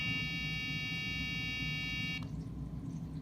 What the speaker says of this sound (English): the buzzer will buzz at a 400 Hertz frequency